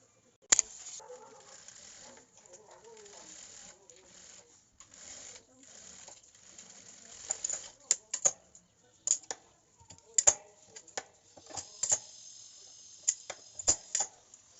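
A sewing machine stitches a strip on a blouse in short, intermittent bursts with pauses between them, close and fairly quiet, mixed with small handling clicks and thumps.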